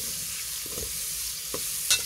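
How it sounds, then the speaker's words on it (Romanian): Onion frying in a pan on a home stove, a steady close sizzle throughout with a few soft stirring knocks and a brief clink near the end, no voices. "Am pus și ceapa la prăjit, după care urmează morcovul, roșiile, după aia varza."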